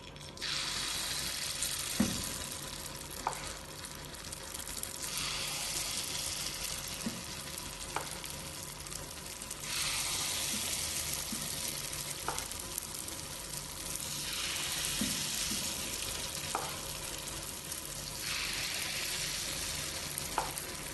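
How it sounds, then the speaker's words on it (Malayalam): Sweet oats paniyaram batter frying in hot ghee in a paniyaram pan, a steady soft sizzle with occasional clicks of a spoon and brief louder bursts as batter drops into the hollows, no talk. "ഇനി റെഡിയാക്കി വെച്ച മാവിൽ നിന്ന് ഒരു സ്പൂൺ കൊണ്ട് കുറച്ച് കോരി ഈ കുഴിയിലേക്ക് ഒഴിക്കാം."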